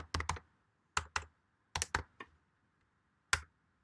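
Keys on a computer keyboard clack in small, uneven clusters of two or three strokes with gaps between them, close and clear against a silent background, ending with a single firm keypress.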